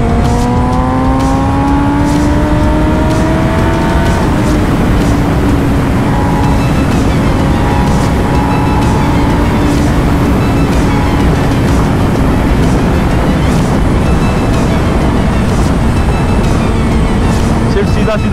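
Motorbike riding along the Lahore Ring Road highway, with a constant engine drone and rushing wind noise throughout and a few shifting engine tones.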